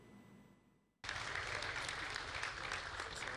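Sustained applause from an audience at an award ceremony, cheering 49 honorees of a product-and-service of the year label, starting abruptly after a second of near silence and staying loud and dense.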